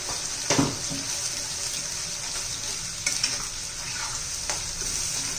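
Masala for raw banana curry sautéing in oil, a continuous hissing sizzle with a few scraping stirs and pan knocks, close and even, no voices.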